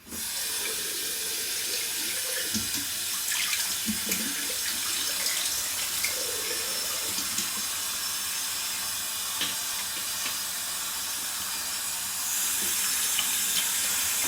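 Tap water runs steadily into a sink before a wet shave, a constant close hiss and splash lasting throughout with small gurgles and clinks, and no talking.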